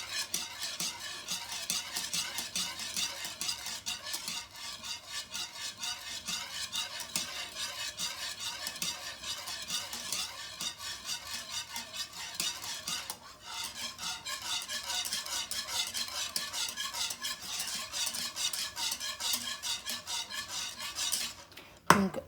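A spoon stirs steadily through an egg mixed into a preparation in a saucepan, a continuous rapid scraping and swishing close up, with a brief clink at the end and no talk.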